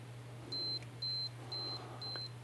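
A Minolta 7000 film camera's self-timer emits four short, evenly spaced electronic beeps close to the mic over a faint steady hum.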